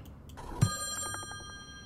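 A telephone bell rings in the Friday the 13th: Killer Puzzle video game, one short bright ring with a sustained metallic tone after a soft click, heard alone.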